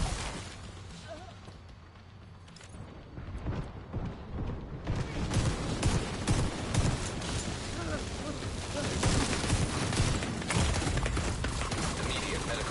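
Gunfire from The Division 2 crackles in dense bursts and scattered shots throughout, mixed with game effects and voices that build to a busier, louder stretch near the end.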